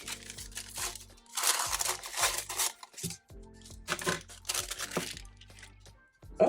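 Packaging of a melty beads kit being cut open, with bursts of crinkling plastic and crunchy rustling separated by brief pauses, close and fairly quiet.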